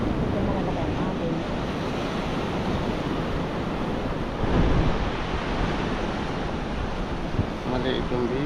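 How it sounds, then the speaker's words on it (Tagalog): Heavy ocean surf roars continuously with wind buffeting the microphone, and a louder wave surge crashes midway. "Ito malalaki ang alon."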